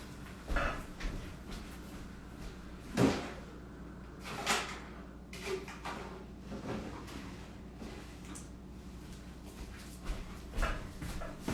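Rummaging through a household drawer, with scattered bumps, knocks and sliding scrapes of objects being moved, a few louder thuds standing out, close by and without talk.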